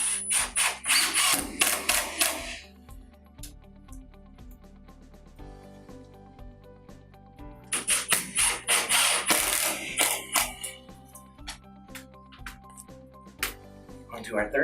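A power drill drives trim screws through shiplap panels into wall studs, with two loud bursts of whirring and clattering separated by quieter stretches of light mechanical ticking.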